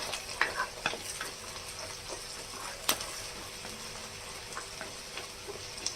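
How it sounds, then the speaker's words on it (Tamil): Chopped onions sautéing in oil for Chettinad crab gravy, a soft steady sizzle with scattered faint stirring clicks and one sharper knock, quiet and close with no voices. "அந்த 2 வெங்காயத்தை உள்ளே போட்டுக்கோங்க. போட்டு நல்லா வதக்கிக்கோங்க."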